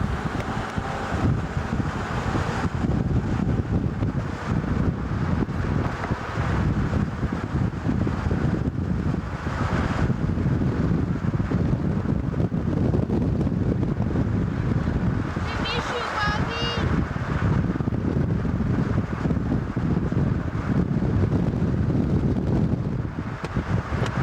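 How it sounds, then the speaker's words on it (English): Strong wind from Hurricane Floyd in 1999 buffets the microphone outdoors with a loud, continuous roaring rumble that lasts throughout. "It's getting windy."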